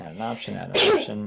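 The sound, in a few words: sneeze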